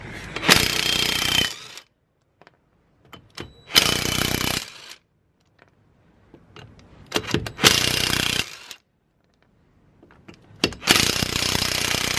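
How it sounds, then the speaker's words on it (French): Loud bursts of an impact wrench removing stabilizer link nuts on a Renault Clio 2 1.5 dCi, four rattling hammering runs of about a second each separated by near-silent pauses. "Je prends la clé à choc."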